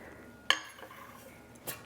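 Metal bread loaf pans are handled after baking, giving a sharp clank followed by a softer knock a second later, close and alone.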